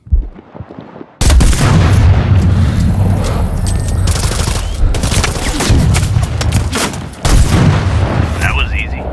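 Gunfire in the PC game Sniper Ghost Warrior 3: loud, close booming shots and bursts that roll on almost continuously for several seconds, with a brief quieter gap near the start and a voice faintly present underneath.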